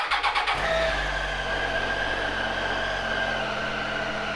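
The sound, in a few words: Triumph Tiger 800 XRX three-cylinder motorcycle engine starting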